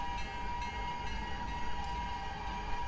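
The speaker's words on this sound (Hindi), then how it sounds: "Jhansi Bandra TS express 11103 web 4 locomotive के साथ ICF कोचिस में झांसी बांद्रा TS एक्सप्रेस।" Simulated Indian Railways express train in Microsoft Train Simulator, hauled by a WAP-4 electric locomotive with ICF coaches, a steady low rumble with a constant tonal hum, running on without pause.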